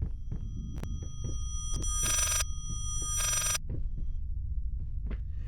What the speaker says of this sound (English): Reverse ringing phone.